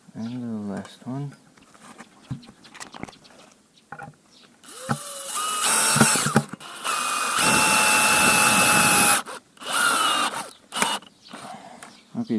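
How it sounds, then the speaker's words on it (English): A power drill whirs in several short and longer bursts while driving screws through metal into the wooden handle of a pointed garden hoe, close by, with a voice speaking in the quieter gaps. "Okay, so I inserted 4 screws. The thread is grabbing the wood"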